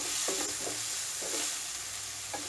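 Spices and palak-tomato curry frying in ghee, a continuous close sizzle with a few soft stirring scrapes spaced through it, no voices.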